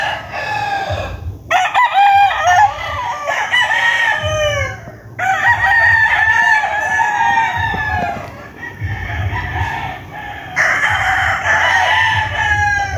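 Several young white roosters at a poultry farm crow again and again, loud and close, their calls overlapping with clucking hens and a steady farmyard murmur in the background.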